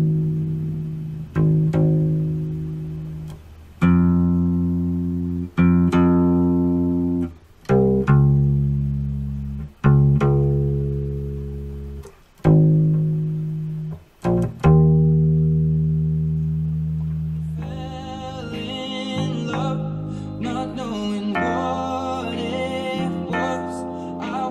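A bass guitar plays the bass line of a song, mostly alone, as a series of sustained, separately plucked low notes that ring out one after another, with brighter accompaniment joining near the end.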